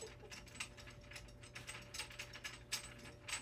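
A ratchet wrench backs the crank bolt out of a 1.8T engine during a teardown, giving fast, close, repeated metallic clicks in an uneven rhythm throughout, with no talking.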